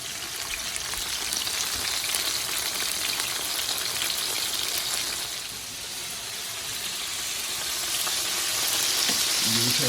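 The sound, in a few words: chicken and shrimp frying in a pan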